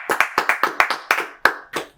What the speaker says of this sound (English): let's do a round of applause for everybody who listened